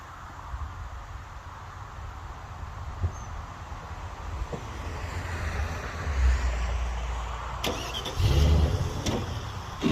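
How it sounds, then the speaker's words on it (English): A truck engine cranks and turns over, then settles into a mid-pitched idle that grows louder and rougher as it revs and pulls away, close by beside a roadside firewood stand, with no talk. "I need to move the truck a little further away."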